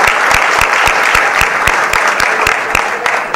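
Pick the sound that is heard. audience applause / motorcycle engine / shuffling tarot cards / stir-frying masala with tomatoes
audience applause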